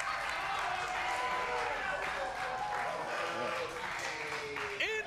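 Live studio audience applause at a Movie Trivia Schmoedown competition, a steady dense wash of clapping and crowd noise holding evenly loud across the whole stretch, with some voices and tonal sounds mixed underneath.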